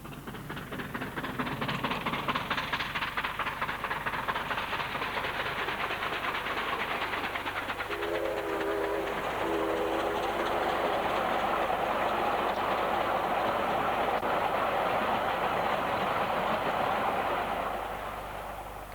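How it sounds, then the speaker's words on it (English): A steam-hauled coal train rumbles steadily past through countryside with a continuous rolling roar and rhythmic clatter of wagons, briefly joined by a whistle-like tone midway. "steam-hauled coal trains speeding through the otherwise peaceful countryside"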